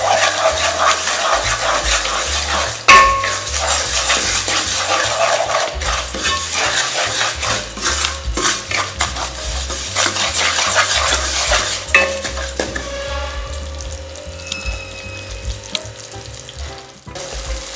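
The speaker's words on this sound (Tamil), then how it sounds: "இப்போது நெய் கொஞ்சம் சூடு ஆடணுன்னு இந்த ரவையை அதில் போட்டு நல்லா கொஞ்சம் சிவக்க வறுத்துக்கலாம்" Semolina roasting in hot ghee in a pan, with continuous close frying crackle and repeated scraping stirs of a spoon against the metal.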